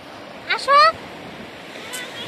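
Atlantic Ocean surf at a beach, a soft continuous wash of waves and wind with a brief burst of a voice calling out early on.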